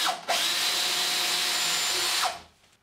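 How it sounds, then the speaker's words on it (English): A power drill whirs steadily for about two seconds boring a 7mm hole for a plasterboard fixing, starting and stopping abruptly, close and loud with no talking. "So to start off with, I'm going to drill a 7mm hole."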